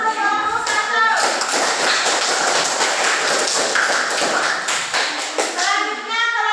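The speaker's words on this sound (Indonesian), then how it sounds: "berikan tepuk tangan untuk kelompok 1" A classroom of students clapping for a group that has just presented, a burst of dense, close applause lasting several seconds, with voices talking just before and after.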